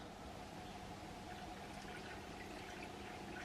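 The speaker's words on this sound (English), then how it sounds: "Slowly pour it in" Water poured slowly into a measuring jug in a kitchen, a faint, steady trickle that keeps going without a break and stands alone with no talk.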